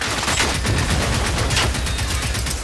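Rapid automatic gunfire in the video game Generation Zero, rounds fired through windows from inside a barricaded house, dense and loud with continuous overlapping bursts throughout.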